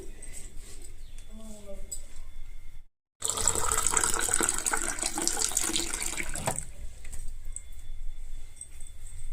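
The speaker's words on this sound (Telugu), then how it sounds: "కొద్దిగా వాటర్ వేసుకుందాం ఉడికించుకోవడానికి తగిన వాటర్ వేసుకుందాం" Water pours into a cooking pot in a steady, splashing rush for about three seconds, set between quieter stretches where a voice can be faintly heard.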